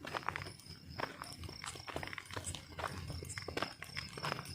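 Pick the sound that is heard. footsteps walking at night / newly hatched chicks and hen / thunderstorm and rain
footsteps walking at night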